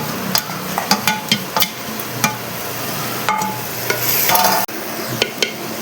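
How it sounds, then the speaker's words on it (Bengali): Ground fried onion paste goes into a pot of handi-style chicken curry and is stirred, giving repeated scraping strokes and sharp clinks of a utensil against the pot over a soft sizzle, close and fairly loud. "এখন পেঁয়াজ যে ভেজে রেখেছিলাম ওই পেঁয়াজ বাটাটা দিয়ে দিচ্ছি"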